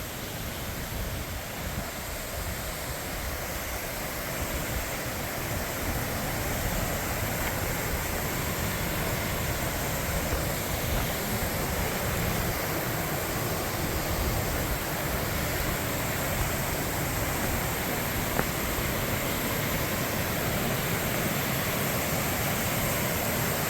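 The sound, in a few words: small waterfall over a rock ledge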